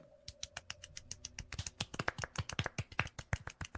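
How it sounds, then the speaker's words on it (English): A small group gives a golf clap, soft light claps building from sparse and quiet to a quicker, fuller patter of several hands, crisp and close, with a faint tonal hum early on. "Bridge, initiate the golf clap protocol."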